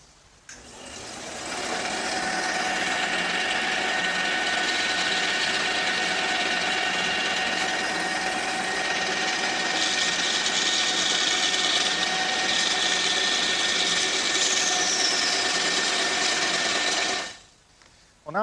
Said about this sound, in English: the first thing I'm going to do is cut these pieces on the bandsaw.